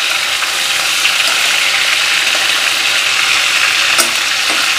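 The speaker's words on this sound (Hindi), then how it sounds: "ऐसे करके सब फ्राई करना पड़ेगा" Chicken pieces shallow fry in a pan for chicken butter masala, a dense, even sizzle and spitting hiss close up, continuous for several seconds with a couple of louder pops.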